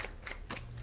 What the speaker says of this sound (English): Give me 2 shuffles